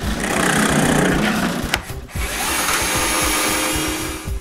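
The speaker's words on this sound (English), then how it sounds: "I drill screw holes in the runners." A power drill bores screw holes in birch drawer runners with a loud whirring grind. It pauses briefly, then runs again steadily close by.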